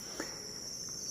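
Crickets chirp in a breeding tray, a steady high-pitched trill running without pause through a short stretch, with faint soft patter beneath it.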